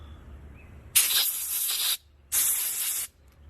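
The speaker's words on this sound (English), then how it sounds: "Kind of spray off every small little piece you can, just in case it has dirt in it." Two hissing bursts of aerosol spray, each about a second long, clean small carburetor parts from a 2-stroke engine, loud and close against a quiet background.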